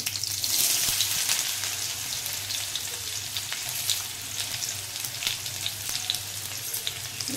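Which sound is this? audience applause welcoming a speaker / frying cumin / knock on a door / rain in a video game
frying cumin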